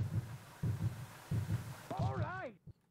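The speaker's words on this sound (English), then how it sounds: "Like the heartbeat, it's kind of cool." Rhythmic thumping heartbeat effect in the snowboarding video game Cool Boarders 2, about four steady muffled beats, with a voice speaking briefly over the last beat before it cuts off.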